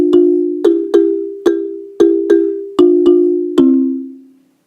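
A struck, bell-like melodic instrument plays a short line of about nine notes, each with a sharp attack and a ringing decay. The last note rings out and fades to silence, clear and close with no voices.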